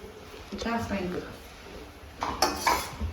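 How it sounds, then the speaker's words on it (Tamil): Cashews and raisins roasting in a pan for bottle gourd payasam, with metal clinks and scraping of a spoon against the pan in bursts toward the end, close by, after a stretch of talk. "கொஞ்சம் வறுபடட்டும் முந்திரியும் திராட்சையும் போட்டு வறுத்துட்டு"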